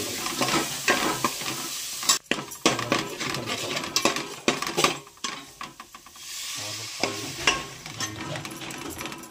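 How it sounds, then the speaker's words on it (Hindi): Agri masala with a little turmeric and garam masala cooks in a gravy in a pan, with close, repeated stirring scrapes and clatters over a constant sizzling hiss. "आपला आगरी मसाला, थोडीशी हळद, थोडा गरम मसाला शिजवून घेऊ मस्त"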